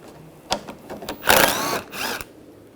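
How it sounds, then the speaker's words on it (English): A power driver fitted with a 10mm socket whirs in several short bursts, removing screws from a 2004–2009 Toyota Prius during a water control valve replacement, close and fairly quiet with pauses in between. "Using a 10mm socket. Take these screws out."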